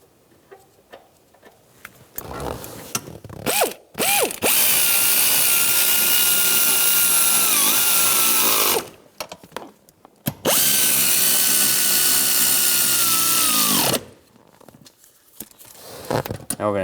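Seat bolts on a 2000-2006 Chevrolet Tahoe being driven with a power tool in two long, loud, steady bursts, each lasting several seconds, with short clicks and handling noises before, between and after them.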